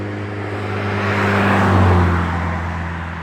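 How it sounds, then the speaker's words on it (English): Road traffic passes near a cemetery with a steady, whooshing roar of tires and engines. It swells as a vehicle goes by close, then eases off, with no talk over it. "It's just a lot of traffic, so I apologize."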